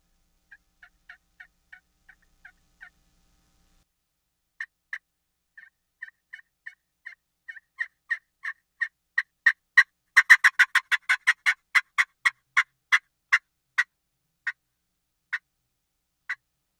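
A friction call imitates a wild turkey hen's fly-down cackle: sparse, clipped notes that speed into a rapid, louder burst of cackles and then slow again into a few spaced final notes, heard alone and close.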